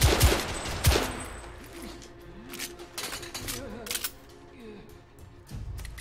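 Rifle fire in the video game The Order: 1886, with loud sharp shots and bursts at the start, then quieter scattered impacts under game sound and speech.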